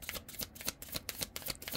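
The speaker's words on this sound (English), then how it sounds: "If you don't like the shuffling, you can just fast forward through the shuffling parts." A tarot deck is shuffled by hand in quick, rhythmic riffles, a soft, close, papery flutter repeating several times a second with no talk over it.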